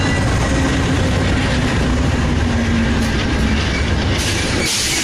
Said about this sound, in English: here comes our train coming in